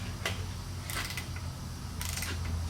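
Snap-on digital torque wrench tightening bolts on an XR650R top end, heard as a few short, faint ratcheting clicks in separate bursts over a quiet background.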